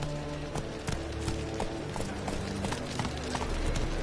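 Roach, a horse in a fantasy role-playing game, gallops with a steady quick clip-clop of hooves, close and continuous over a low ambient bed, with no voices.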